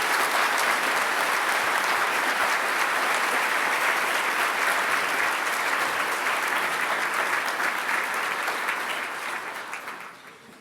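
A large audience at a 2019 GMIT university graduation ceremony applauds the graduates, a long, dense and steady roar of clapping that stays strong before tapering off in the final seconds.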